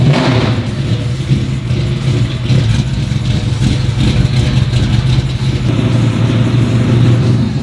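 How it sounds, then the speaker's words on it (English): A car engine rumbles steadily up close, idling and revving slightly, with mechanical clatter throughout. "So John's just pulling out some cars here."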